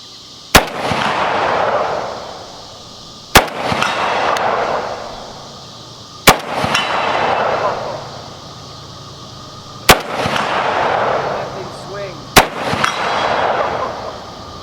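Five loud, sharp shotgun blasts from a Beretta 1301 Tactical 12-gauge firing 2 3/4-inch Federal slugs at steel targets outdoors, spaced a few seconds apart, each followed by a decaying echo and background ambience.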